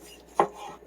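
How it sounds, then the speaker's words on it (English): A single knife stroke chops through tomatoes on a cleaned cutting board, one sharp, close thud in an otherwise quiet kitchen. "I'm going to go ahead and just start cutting my tomatoes up"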